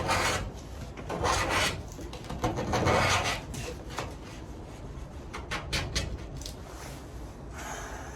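A ToughBuilt utility knife scraper rasps across a surface in repeated short, gritty strokes at close range, moderately loud and steady throughout.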